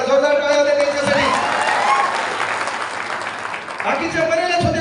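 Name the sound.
audience applause at a lecture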